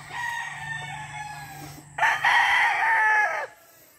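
A white and red Boston chicken hen clucks and cackles close by, a drawn-out call followed by a louder burst of squawks before falling quiet.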